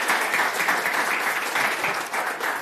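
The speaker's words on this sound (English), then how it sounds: "Please clap hands for them." An audience applauds panelists at a privacy symposium in Harare, Zimbabwe, with dense, steady clapping that holds at full strength throughout, close and loud, and no voices over it.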